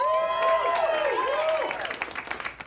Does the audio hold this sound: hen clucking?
no